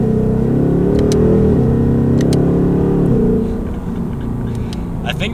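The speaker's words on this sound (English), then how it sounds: "I think the Ford V8 is probably like the best sounding V8 you can get." The stock V8 of a 2018 Ford Mustang GT holds a loud, deep rev that drops back toward idle partway through, rumbling up close with faint ticks on top.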